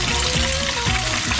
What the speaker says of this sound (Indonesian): Ayo kita goreng.